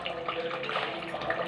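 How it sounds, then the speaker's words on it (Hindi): A glass of water poured into thick bottle gourd masala in a pan, giving a soft, close splashing and trickling that runs steadily throughout. "देखिए इसमें हम थोड़ा पानी डालते हैं क्योंकि ज़्यादा गाढ़ा मसाला है।"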